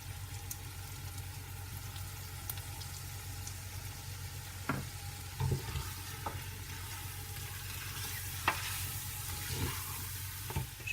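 Sliced onion sautéing in a pan for a veal and Jerusalem artichoke tajine, a soft low sizzle with occasional faint stirring knocks over a steady background hum.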